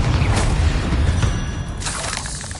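In the Hogwarts video game, a Confringo blasting spell explodes with a loud, rumbling boom that slowly fades, followed by a faint shattering tail.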